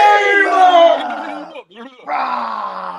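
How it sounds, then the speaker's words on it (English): A crowd-cheering sound effect plays on a live morning gaming stream: a loud, voice-like roar of shouts that fades, drops out briefly for about half a second, then surges back and holds steady. "And the crowd goes wild."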